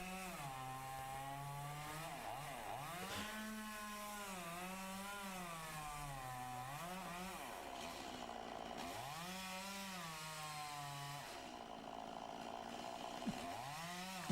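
A chainsaw cuts into a tree during a felling attempt, its engine rising and falling in pitch as it bogs into the wood and revs back up, steady and fairly distant, with no voices.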